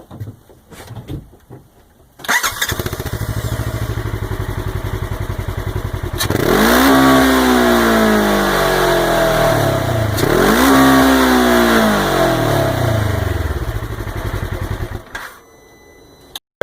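A Polaris 1000 engine cold-starts after a few seconds of quiet handling noise, then settles into a loud, steady idle broken by two big revs that climb toward 8,000 RPM and fall back before it cuts off near the end.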